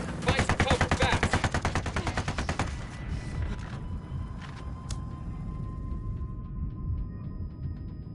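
Rapid automatic gunfire in Ghost Recon set in Santa Blanca, a loud rhythmic burst for nearly three seconds, then dying into scattered shots and ambience.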